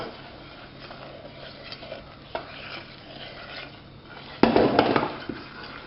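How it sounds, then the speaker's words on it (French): A spoon stirs powdered sugar into a melted chocolate and butter mixture in a bowl, soft scraping with light clinks, growing louder and busier near the end, with no voices. "on rajoute le sucre en poudre au mélange chocolaté. Et donc on mélange."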